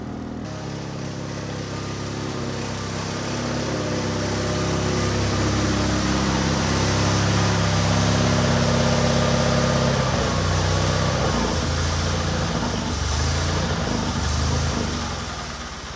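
A 1978 Sears GT18 lawn tractor, long parked in a barn, runs on choke: a steady, rough engine drone that swells and fades a little, close by, with no one talking.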